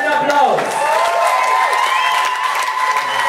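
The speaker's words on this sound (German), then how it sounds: "Das ist euer Applaus und nochmal einmal ganz fetten Applaus." A crowd applauds and cheers for a dance crew after a performance, with sustained clapping and whoops while a voice talks over the noise.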